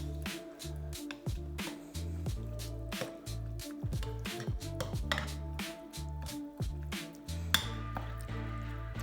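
Chicken kebab ingredients being mixed by hand in a bowl with a pinch of sumac, giving wet squelching and squishing with occasional light clinks against the bowl, steady and close.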